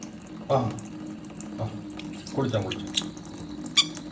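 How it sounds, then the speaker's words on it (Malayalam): Water runs from a tap in an even stream while voices talk and call out over it. "വെള്ളം വന്ന് തുടങ്ങി"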